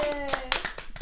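A small audience claps for a podcast director at a live French podcast event, a brief burst of scattered hand claps under a lingering voice.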